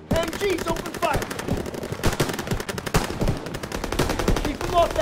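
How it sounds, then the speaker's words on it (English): Machine guns blaze in the Call of Duty: WWII mission Assault the Garrison, rapid sustained bursts of gunfire dense and loud, with occasional shouted voices mixed under the firing. "MGs, open fire!"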